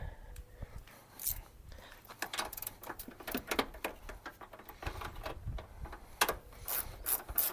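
Ratchet wrench working 10 mm headlight bolts loose on a Chevy Colorado, quick bursts of clicking pawl ratcheting with metallic rattles and handling noises, close and fairly quiet.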